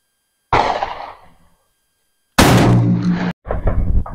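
A Beretta 1301 semi-automatic shotgun fired outdoors: two loud, close, sharp blasts, the first decaying in a long echo and the second cut short by another abrupt report, separated by silence.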